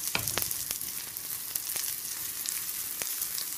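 Onion frying in a tempering for a prawn dish hisses with a dense, steady sizzle, broken by a few sharp spatula clicks early on and scattered later, close and moderately loud.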